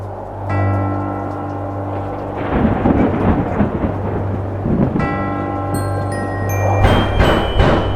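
A thunderstorm with heavy rain rumbles steadily, deep thunder rolling loud and continuous beneath a dense hiss of rainfall, with a sustained tonal hum and a few faint chime-like tones layered over it.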